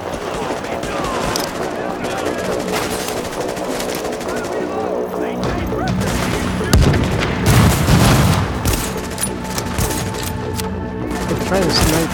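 Gunfire in The Division during a fight at the Russian Consulate: dense, booming bursts of shots and heavy impacts, loudest in the second half, with players talking over the battle.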